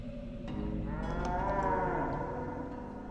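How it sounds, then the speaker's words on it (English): Cow mooing in the HoloLens game Sanzaru Depths: one long, drawn-out moo that swells and fades over a low background hum, heard clearly with no talk. "I hear a cow"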